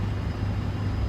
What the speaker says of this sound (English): My truck is a really loud, noisy diesel.